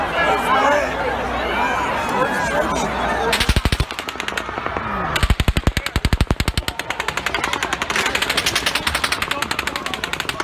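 Automatic gunfire at an outdoor concert during the Las Vegas shooting: after crowd noise and chatter, loud, rapid, sustained bursts of shots ring out with brief pauses, while people shout and talk underneath.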